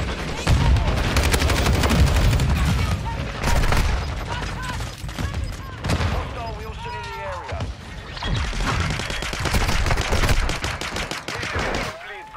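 Video game gunfire aimed at a UAV, dense bursts of automatic shots and impacts that come in loud waves, with someone talking over the shooting.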